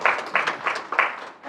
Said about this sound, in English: So kindly, let's give them a round of applause.